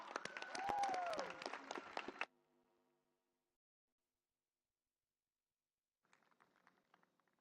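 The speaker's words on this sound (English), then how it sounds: "A big round of applause, ladies and gentlemen, for Sundar Anwar." An audience at a university graduation ceremony bursts into loud, dense applause with a raised voice or cheer in it, which cuts off abruptly after about two seconds, followed by near silence and a faint patter of sound later.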